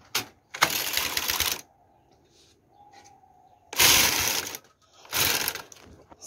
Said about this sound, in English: So I'm going to press the two together and start knitting.